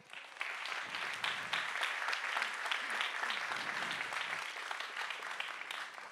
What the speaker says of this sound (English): Great applause for Achim.